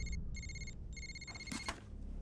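A telephone rings in repeated electronic trills with short gaps, faint against a low background hum, with a brief rustle near the end and nobody answering.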